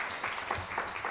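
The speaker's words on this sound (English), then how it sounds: "Applause." Conference audience claps after a computing talk, a continuous even patter of many hands at moderate volume with no speech on top.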